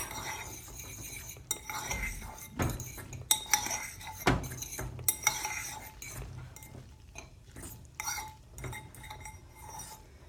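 Cheese from a packet being stirred into a dish with a utensil, scraping and clinking against the pot in irregular strokes, close and fairly loud, with no talking.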